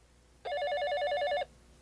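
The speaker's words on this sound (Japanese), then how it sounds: "電話だよ。" Telephone ringing in a single close burst of rapid trilling electronic bell tone lasting about a second, then stopping, with faint background hum.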